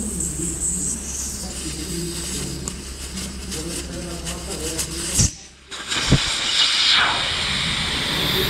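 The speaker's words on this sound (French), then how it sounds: "On démonte l'obus pour dégonfler la roue et on décolle le pneu." Air hisses steadily out of a car tyre, size 205/55 R16, after the valve core is removed. The hiss is broad and continuous, and a couple of sharp clicks interrupt it near the end.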